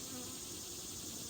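Honeybees buzz inside a weakened, low-population hive in late August, a steady dense drone with no pauses, close and continuous throughout.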